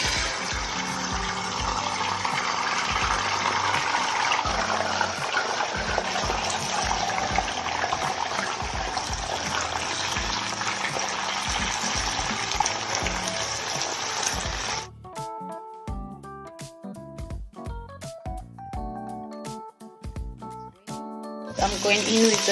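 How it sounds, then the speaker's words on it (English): An egg hits a hot wok for prawn fried rice, a loud dense sizzle and spatter that roars steadily for a long stretch, then drops away to sparse clinks and scrapes before flaring again; no one speaks. "I'm going in now with the egg"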